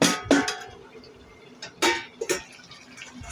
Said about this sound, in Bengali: এবার একটা ঢাকনা দিয়ে ঢেকে দিলাম আমি।